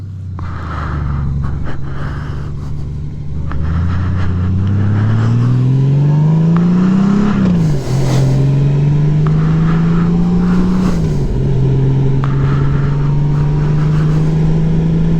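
A 2018 Honda Gold Wing motorcycle engine runs steadily up close, its pitch climbing through two smooth accelerations with brief dips at the gear changes, under constant road and wind noise.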